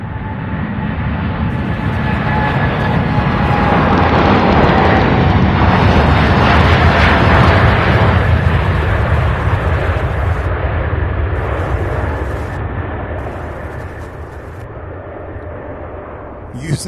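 A heavy UPS cargo jet bound for Anchorage takes off from the runway at Louisville International Airport, its loud, broad engine roar swelling, holding, then slowly fading as it climbs away.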